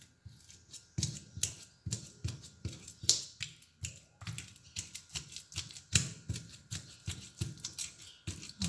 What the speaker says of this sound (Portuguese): Agora eu vou amassar com garfo.